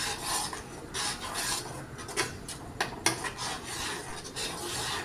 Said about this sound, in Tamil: எல்லாத்தையும் நல்லா கலந்து விட்டுக்கலாங்க